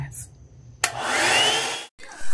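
A blow dryer set to low heat blasts on suddenly with a steady, loud airy roar that holds for about a second before cutting off abruptly, preceded by quiet room sound.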